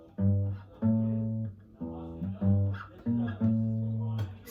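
Electric guitar played at a guitar lesson, repeating the Smoke on the Water riff as a run of sustained, harmonically rich power-chord notes in a clear stop-start rhythm, close and fairly loud with no talking.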